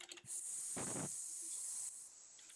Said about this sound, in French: C'est un serpent.